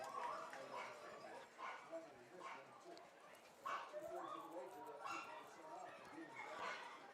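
Dogs bark and yip repeatedly in the crowd at a minor-league baseball game, mid-distance and moderately loud, mixed with general stadium noise and voices.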